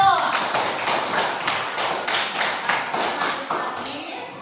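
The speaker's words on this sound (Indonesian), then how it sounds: "Coba tepuk tangan untuk kelompok 1." An elementary school class claps in unison for a student group, patterned bursts of hand claps repeating roughly twice a second, loud and near, with a brief voice at the start.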